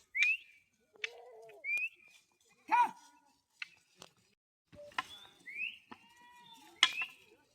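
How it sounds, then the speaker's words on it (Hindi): A flock of about 700 sheep crowding a road, scattered bleats near and far coming one after another with short quiet gaps between them and no talking. "700 की आबादी में ये भेड़ है।"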